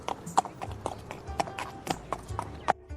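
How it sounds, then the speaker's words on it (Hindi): Cartoon-style horse hooves clip-clop in a steady, evenly spaced rhythm as a prince rides toward a eucalyptus forest, each hoof strike crisp and close against a faint background bed. "वह घोड़े पर सवार होकर नीलगिरी वन की ओर चला जाता है।"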